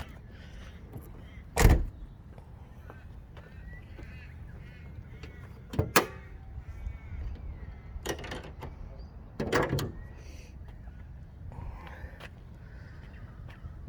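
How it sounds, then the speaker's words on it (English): A few sharp clunks and latch clicks, spaced apart and fairly close, as the bonnet is released and lifted on a modified Nissan 180SX with a forged SR20DET engine. "Pop the bonnet, see where all the magic happens."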